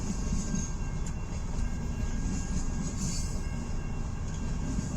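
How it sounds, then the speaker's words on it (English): CN 383, a long southbound mixed freight train with many tank cars, rolls past at Richmond, Michigan, a steady close rumble of wagons and wheels holding for the whole stretch with no voices. "That's a really long train."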